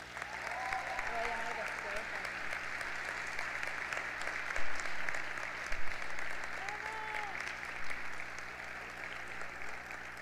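Steady crowd applause for a student at a Colegio Notre Dame high school graduation, continuous dense clapping throughout with a few brief murmurs and a faint voice passing underneath.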